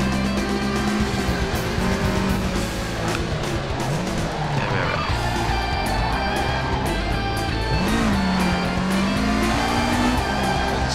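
A Toyota Sprinter Trueno AE86 in Fujiwara Tofu Shop trim drifts in Assetto Corsa, its engine droning and rising and falling in pitch while the tires slide and squeal, loud and continuous throughout.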